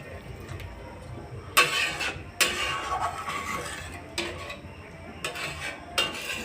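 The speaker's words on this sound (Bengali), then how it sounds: "এবার আমি জল দিব, আর একটু সিদ্ধ করে হিসেবে জল দিব" Water goes into a pan of cooking vegetables for an egg curry, bringing a few splashy bursts and clinks of a utensil against the pan, separated by quiet pauses.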